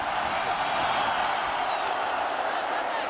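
A cricket stadium crowd at an India versus Pakistan match in 2004 roars after a Mohammad Sami yorker, a loud, steady wash of cheering and whooping held at one level throughout.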